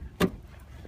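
Trunk latch of a 2013 Nissan Altima 2.5 SV popping open: a single short, sharp mechanical thunk, close by, followed by quiet.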